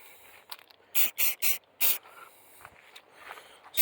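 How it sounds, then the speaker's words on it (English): Short hissing bursts of spray paint from a rattle can, about four quick sprays in a row with brief pauses, close and fairly loud over a quiet background. "using a rattle can"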